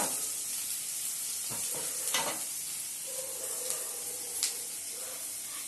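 Brinjal kulambu being stirred in a kadai, with a steady soft sizzle and a few scraping strokes of the ladle against the pan, close and fairly quiet, no talking.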